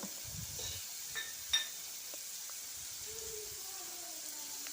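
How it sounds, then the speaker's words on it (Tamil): Chopped medium tomatoes and onions sauté in a pan, a soft steady sizzle and hiss with a few light clinks and scrapes from stirring, and no talking. "வெங்காயம் நல்லா வதங்கினதும் 2 மீடியம் சைஸ் தக்காளியை கட் பண்ணி சேர்த்துருக்கேன்."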